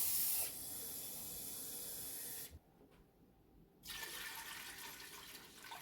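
Hot water poured into a canner while canning chicken bone broth, a steady hissing gush that cuts off abruptly, pauses about a second, then resumes as a rushing stream, close and moderately loud with no talking.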